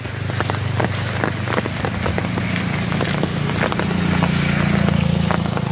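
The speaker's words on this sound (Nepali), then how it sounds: "झरी पर्यो" Heavy rain falls steadily in a village, drumming on surfaces with constant dense patter and a low rumble underneath, swelling slightly toward the end.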